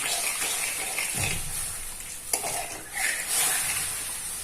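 Sugar water bubbling in a pan while a utensil scrapes and stirs, with a few clinks against the pot and a soft sizzling hiss throughout.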